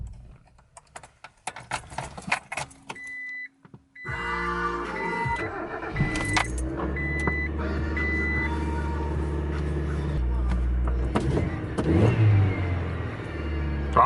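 A small 63-horsepower car engine cranks after a tune-up, with clicks and starter bursts first, then catches at about four seconds and settles into a steady running drone with a rev swell near the end.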